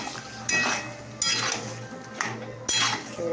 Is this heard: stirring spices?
yes